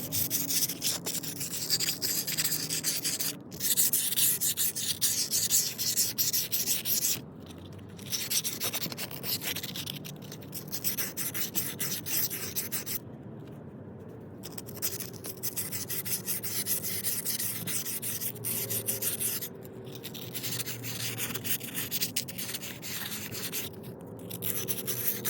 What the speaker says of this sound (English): what I have is some 120 grit plumber's sandpaper, and so we're just going to hit that around the outside edges here where the seal goes